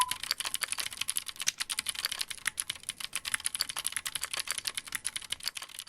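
Fast, steady typing on a Keychron Q3 mechanical keyboard fitted with green switches gives a dense stream of crisp, close-up key clacks with no voices.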